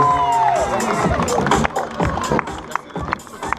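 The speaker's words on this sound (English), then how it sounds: "Let's put those hands together one more time." Crowd at a trials bike exhibition breaking into applause and cheering, a dense wash of clapping with whoops and shouts, loud and close, with some voices mixed in.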